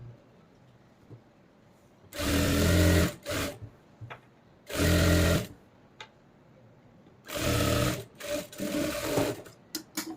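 A sewing machine stitching the side seams of a readymade kurti runs in three loud, steady bursts separated by quiet pauses, with short stitching spurts toward the end.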